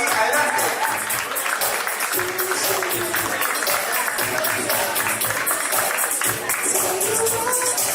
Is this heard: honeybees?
no